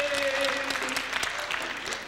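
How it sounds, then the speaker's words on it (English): Audience at a folk festival applauding, a dense patter of many hands clapping steadily and fairly close for a couple of seconds, with a voice briefly heard at the start. "Let's have a round of applause."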